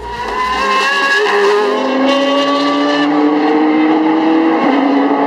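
A Honda HSV-010 GT race car with a naturally aspirated, longitudinal, liquid-cooled HR10EG V8 screams at high revs, a loud sustained harmonic wail that rises in pitch as it accelerates, heard alone without talk.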